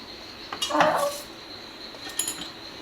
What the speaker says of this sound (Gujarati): જો આપણે હવે ગેસ શરૂ કરી તાવડી મૂકી દઈએ